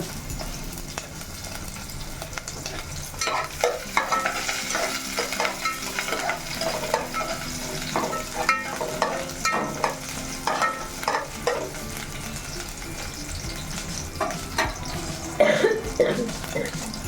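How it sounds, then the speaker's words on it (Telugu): Continuous sizzling of two green chillies frying in oil, with scraping and stirring sounds and occasional sharp clatters of a utensil against the pan. "దాని తర్వాత పచ్చిమిర్చి వేసుకుంటాను రెండు"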